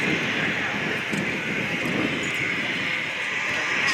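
A Pilatus PC-9M trainer powered by a single Pratt & Whitney PT-6A turboprop flies a display at an airshow, a continuous loud engine drone with wind buffeting, steady throughout.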